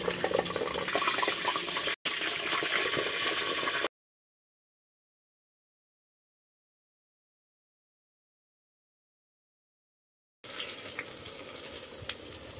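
Brinjal sizzles in hot oil on a mud stove, a dense crackling hiss heard in two stretches separated by a long gap of silence, with no voices.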